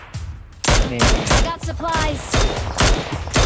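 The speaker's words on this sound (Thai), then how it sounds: "สองตี้ยิงกันอยู่นะ" Rapid bursts of automatic gunfire as two squads trade shots in the mobile game PUBG Mobile, loud and close, with dense overlapping shots and only short pauses between volleys.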